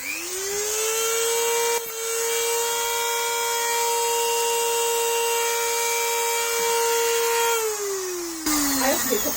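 A Dremel rotary tool cuts off an old Aprilia headstock bearing cage with a steady high-pitched whine that holds for several seconds, then drops in pitch as it slows, loud and close.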